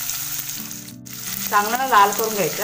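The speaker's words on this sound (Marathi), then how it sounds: "तेल आता गरम झालं, त्यात टाकते मी मिरची आणि कांदा." Green chillies and onion fry in hot oil with a close, steady sizzle, with someone talking over it.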